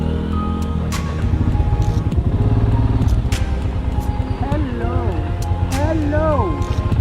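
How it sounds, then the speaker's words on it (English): A BS3 Royal Enfield Himalayan motorcycle rides along a wet, flooded road, its engine a close, steady thumping rumble throughout, with a voice talking over it in the latter half. "I was riding a BS3 Himalayan"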